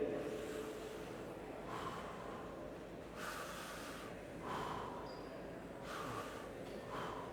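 Audience at a longevity festival closing ceremony drawing breath in through their noses, several faint, soft sniffing inhalations spaced a second or two apart in a large room.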